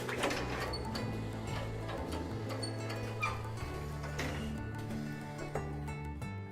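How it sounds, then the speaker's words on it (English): A T-Mini textile garment folding machine runs automatically, giving a steady mechanical hum with repeated clicks and clacks throughout, close and continuous, with no voices. "The machine can also be set up to fold automatically so that it continues to run"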